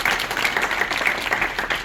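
Audience applause in a room during a community gathering, a short burst of dense clapping from many hands, close and steady throughout.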